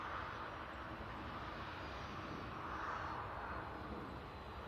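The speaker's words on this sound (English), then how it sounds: "British Airways A380 coming in from London Heathrow" A British Airways Airbus A380 arriving at Manchester Airport from London Heathrow gives a faint, steady, distant jet roar with a broad low rumble that swells slightly midway.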